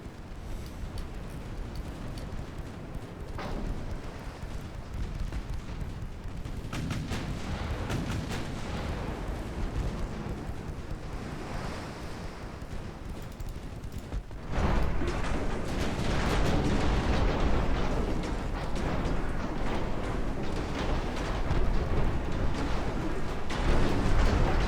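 Heavy naval guns of a warship firing armor-piercing shells at the cruiser Glasgow in a naval video game, a dense, continuous barrage of booming shots that grows louder and thicker about halfway through.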